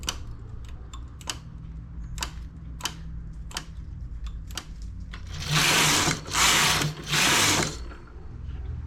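A knitting machine knitting a row: a run of sharp, evenly spaced ticks and clicks as the needles are set, then three loud, close mechanical whirring sweeps of the carriage across the bed.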